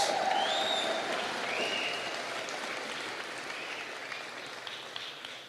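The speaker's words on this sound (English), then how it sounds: "That's applause." Audience applause at a Conservative political rally in Sault Ste. Marie, Ontario, a broad steady wash of clapping from a sizable crowd, fairly distant and gradually fading.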